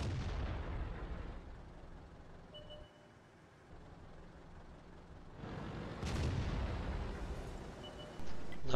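A tank cannon fires in the World of Tanks game during a Churchill III battle on the El Halluf desert map, landing as a deep muffled boom over a steady low rumble, followed by a second sharper blast.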